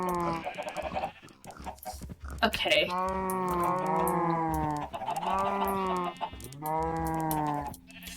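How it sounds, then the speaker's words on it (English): Farm animals in a barn-building video game call out in repeated, drawn-out bleating cries with rising and falling pitch, loud and close, while a person talks over them. "I'm gonna do the chickens first. Hi, chickens."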